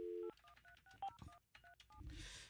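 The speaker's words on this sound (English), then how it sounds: "calling Chloe's cell phone number" Telephone keypad tones dial a cell phone number, a quick sequence of about a dozen short, clean beeps in an uneven rhythm, followed by a brief line click and a hiss of connection.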